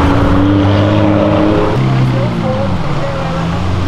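A customized Mini accelerates at a Euroday car meet, its engine roaring with steady rising and shifting tones, loud and close, over crowd chatter and background traffic noise.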